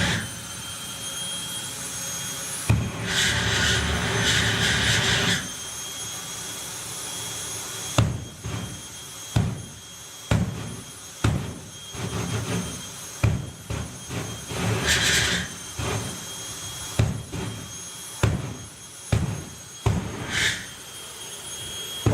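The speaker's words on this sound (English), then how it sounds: "This is the quickest funny car in the world. With jet propulsion." Jet-propelled funny car at a drag racing event, a roaring jet engine blasting loudly in long surges and repeated sharp bursts as it is cranked up, close and harsh.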